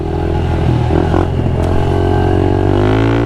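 Pit bike motorcycle engine running continuously on a private dirt track, loud and close with steady droning harmonics and shifting pitch as it revs, no talk.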